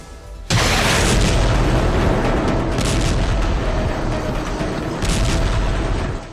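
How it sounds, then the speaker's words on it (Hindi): An Israeli air strike bombing in northern Gaza sets off a sudden heavy blast, followed by a loud, sustained roaring rumble with further thuds rolling through it. No voices. "ये इजराइल की बमबारी का एक और वीडियो सबूत है।"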